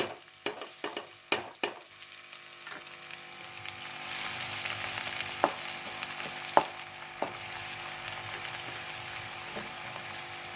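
Ground onion paste sizzling in hot oil in a pan for lauki kofta curry, a steady soft frying hiss after a few sharp clinks at the start, with occasional faint taps.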